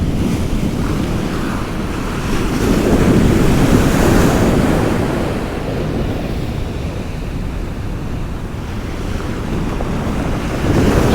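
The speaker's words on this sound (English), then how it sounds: "they've got some right cracking waves smashing them rocks" Rough North Sea waves smash onto rocks on the Kilnsea coast of England's east coast, a heavy continuous surf roar that swells and recedes, mixed with gusty wind buffeting the microphone.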